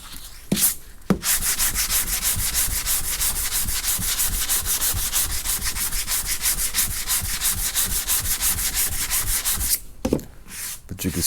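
Close, rhythmic scraping of 80 grit sandpaper on a sanding block across car bodywork on a box Chevy Caprice: fast, even back-and-forth strokes that keep going for about nine seconds, with no talking.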